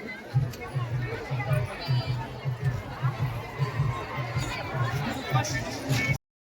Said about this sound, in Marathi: भरपूर गर्दी झाली आहे मित्रांनो.